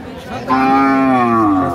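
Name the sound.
cow mooing at a cattle market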